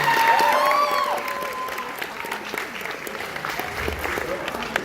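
Audience at a stage hypnosis show breaking into applause, crowd clapping with a few whoops and cheers rising over it, loud at first then settling into steadier clapping.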